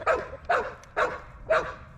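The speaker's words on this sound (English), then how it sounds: "I don't know if you can hear my dog, she's going crazy." A dog barks four times in a steady, evenly spaced rhythm, fairly close and loud, beside a mobile chicken coop.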